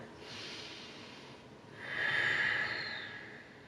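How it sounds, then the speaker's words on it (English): Slow, deep breathing held in a yoga pose: a soft inhale through the nose, then a longer, louder airy exhale, close to the microphone in a quiet room. "We'll take 3 more breaths here."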